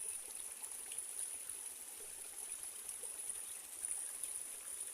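Clear stream water runs steadily in a soft, continuous trickle and rush at moderate distance, alone with no voices.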